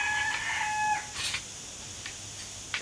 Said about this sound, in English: I actually like the sound of chickens